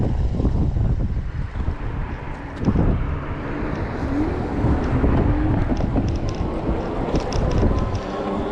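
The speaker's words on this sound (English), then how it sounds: "we got west winds coming out, about northwest winds coming out about 10-15 mile an hour" Cold northwest wind at about 10-15 mph buffets the microphone while riding e-bikes, a steady loud low rumble with gusty swells and no speech.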